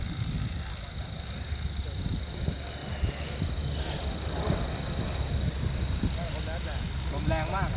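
A size 450 tail-lifted RC helicopter coming in to land outdoors gives off a steady high rotor and motor whine under wind noise, with someone talking throughout.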